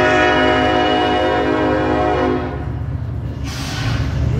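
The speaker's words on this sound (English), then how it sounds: "Yeah, so there was a train going past." A train passes close by in Laredo, Texas, loud and steady, with sustained horn tones and rumbling railcars that ease off slightly toward the end.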